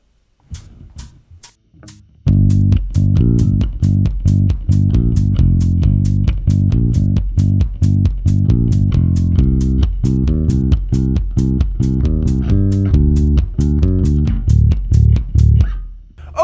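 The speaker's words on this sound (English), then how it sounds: "let's have one more listen to that riff with the five string and the backing track" A punchy, evenly picked five-string bass riff with a driving backing track, steady notes repeating loudly after a brief quiet fumble at the start.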